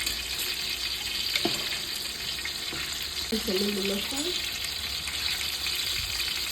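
Onions sizzle steadily in a hot pan as they fry to golden brown, a dense continuous crackle with a brief clink of utensil partway through and no talking.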